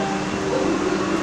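A Vande Bharat Express train runs with a steady rumbling roar, continuous and loud with a broad whooshing hum and no distinct breaks.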